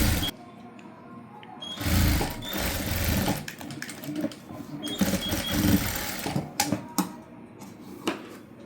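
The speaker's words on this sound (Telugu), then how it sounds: "పైన స్టిచ్ చేసుకోవాలి." A sewing machine stitches a back-open, front princess-cut blouse in close bursts of rapid mechanical clatter, stopping and starting several times with short pauses.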